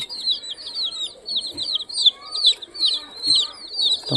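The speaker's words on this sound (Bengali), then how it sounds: "দেখতে তো মুরগি বাচ্চাগুলো কত সুন্দর" Chickens, including young chicks, give repeated high cheeping chirps in quick bursts throughout, fairly close, with a few soft knocks and rustles underneath.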